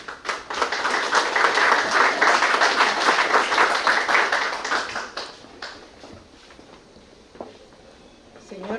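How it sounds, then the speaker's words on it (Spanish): An audience at a book presentation applauds, a dense, fairly loud burst of many hands clapping for about five seconds that fades to a few scattered claps and room noise. "La recibimos con aplausos."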